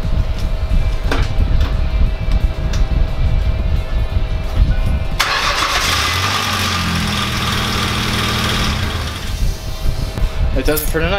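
A steady engine hum runs under background noise, then a loud whooshing start kicks in as a Ford Explorer's engine fires and settles into a rough, rumbling idle up close.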